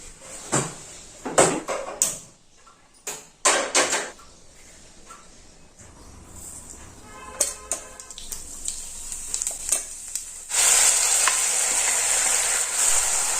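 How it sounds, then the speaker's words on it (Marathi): Ground masala paste and potatoes sizzle in hot oil while a utensil scrapes and stirs in bursts; the frying hiss swells louder near the end. "थोडेसे असे तळून घेतो आणि शिजू देतो"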